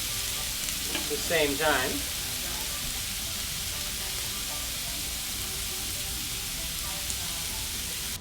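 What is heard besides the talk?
steak searing in oil in a pan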